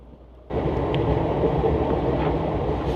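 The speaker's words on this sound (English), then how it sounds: "So this is the subway car." A London Underground subway car rides along with a loud, steady rumble and rattle that starts abruptly and continues without a break, no voices.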